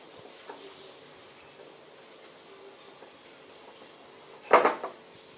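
A young girl mixes a vanilla-bound recipe in a bowl until creamy; a low kitchen hush gives way to a short burst of spoon-on-bowl clinking and scraping near the end.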